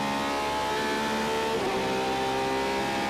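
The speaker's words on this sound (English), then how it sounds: "And this is a screaming, angry car, isn't it?" Porsche GT race car at WEC qualifying at the Nürburgring, with a new exhaust, its engine screaming at high revs, loud and close, with a clear pitch shift as it changes gear, no voices.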